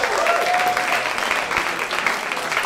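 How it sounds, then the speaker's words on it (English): Audience applause at a strike-themed show ahead of a raffle draw, a dense, continuous wash of many hands clapping together, loud and steady throughout with a faint voice briefly audible underneath. "Give them a round of applause, please."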